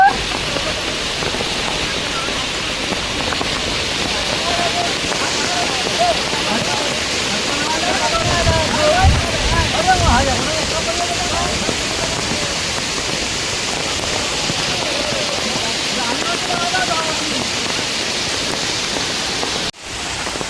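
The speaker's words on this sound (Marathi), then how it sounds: "मंडळी आता आहूर आला मोठा आहे बघा नदीला" A flooded river rushes in a continuous loud broadband roar of water, steady throughout and close by, with no clear talking over it.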